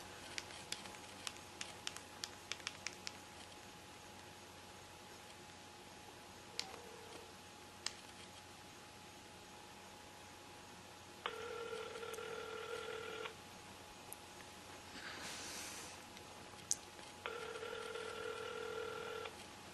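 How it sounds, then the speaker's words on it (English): Keypad tones ring out as a number is dialed on a mobile phone with a cracked screen: a quick series of short beeps, then a few single presses, and later two sustained dual-tone bursts. All of it is faint and heard alone. "let me try to dial a number."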